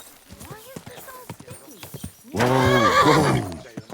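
In Kingdom Come Deliverance 2, hooves clip-clop steadily before a loud, close horse whinny rings out for about a second. A player talks over the start.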